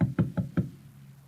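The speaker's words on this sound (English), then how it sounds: "And then there was a knock on the door." Four firm knocks on a door in a steady, evenly spaced rhythm, close and fairly loud, with a short room echo afterward.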